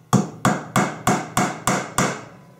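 Seven sharp hammer blows drive a 1 to 1¼ inch nail into the wooden top bar of a 9 1/8 inch Langstroth beehive frame, evenly spaced, close and loud, each ringing briefly, with no talking.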